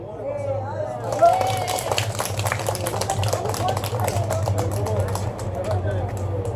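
Residents at a public meeting about construction noise and dust give a representative a round of supportive applause, a brisk burst of many hands clapping that starts after a second and continues under steady talking and murmuring.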